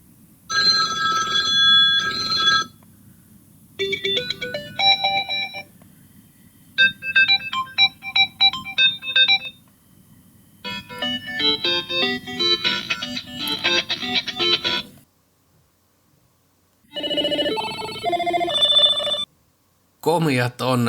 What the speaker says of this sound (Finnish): kuunnellaan hiukan näitä soittoääniä